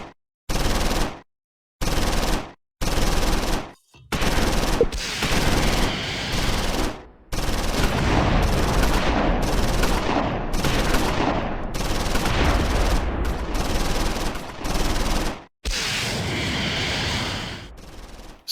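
Bursts of machine-gun fire in the World War II strategy game Close Combat 4, set in the Battle of the Bulge at Dasburg, come loud and close. Long rattling volleys are broken by short silent gaps.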